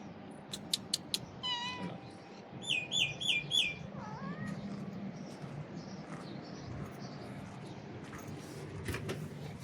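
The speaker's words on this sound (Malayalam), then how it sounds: "ഇതാണ് നമ്മളെ സുന്ദരി പൂച്ച" A cat meows in a small shared room, a few short, clear meows near the start and middle, moderately close against a quiet room hum, mixed with faint high chirps.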